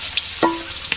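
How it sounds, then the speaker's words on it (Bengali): Stinging catfish and climbing perch frying in oil, a brief, soft, continuous sizzle with light hissing and a single faint clink partway through, close by and with no talking. "এখন মাছ ভাজবো"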